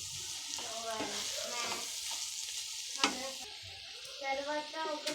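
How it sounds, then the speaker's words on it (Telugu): Bitter gourd fry with peanut powder is stirred in a pan, giving a soft, continuous sizzle with intermittent scraping, and a quiet voice is heard underneath. "ఇప్పుడు కొత్తిమీర కొంచెం వేసుకొని బాగా మిక్స్ చేసుకున్నాం"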